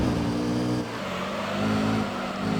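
Race car engines in the racing video game Gran Turismo Concept on the Autumn Ring circuit, chasing a leading Supra, with a continuous loud droning engine note that dips briefly and then swells again as the cars accelerate.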